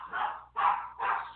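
A puppy barks three times in quick succession, each bark a short, high, yappy burst at moderate loudness with brief pauses between, close by and with no talking.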